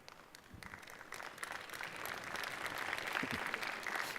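Audience applause after a motivational talk, a thin patter of clapping that starts soft and gradually builds into a steady, fuller ovation over a few seconds.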